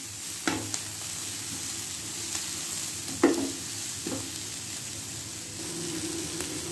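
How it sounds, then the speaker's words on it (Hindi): Chicken and vegetables frying in a pan, a soft continuous sizzle with a few distinct knocks and scrapes of a spoon against the pan as it is stirred, close by. "मुसलसल चम्मच हिलाते जाएंगे इसमें।"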